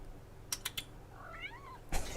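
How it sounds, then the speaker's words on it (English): A pet cat gives a short, rising and falling meow at moderate distance. A few sharp keyboard clicks come before it and a louder clatter comes after it. "Where's my cat?"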